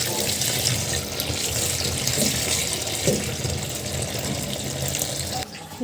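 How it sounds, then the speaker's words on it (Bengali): Tap water runs steadily into a sink while potatoes, eggplants and tomatoes are washed, a close, continuous gushing stream with faint handling sounds. "সব কিছু খুব সুন্দর করে ধুয়ে নিব।"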